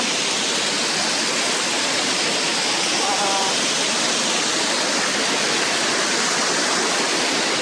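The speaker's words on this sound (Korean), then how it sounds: "곳곳에서 폭포수가 흘러나옵니다." Waterfalls gushing at a Croatian national park, a steady, loud, broadband roar of falling water that fills the whole stretch without a break and with no other sound standing out.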